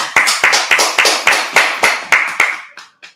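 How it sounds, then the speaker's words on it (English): A congregation at a Sabbath service claps in steady unison, about ten sharp, evenly spaced claps over three seconds that thin out and fade at the end. "Let's clap it up."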